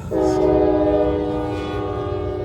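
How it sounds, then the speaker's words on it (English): A CSX Railroad freight train passes close by, its horn sounding a loud, steady multi-tone blast that holds throughout over a rumbling rail roar. "Let's record this train coming by."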